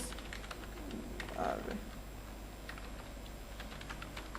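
Quick taps on a computer keyboard, fairly faint and steady, clicking away beneath a low hum with a brief voice in the middle.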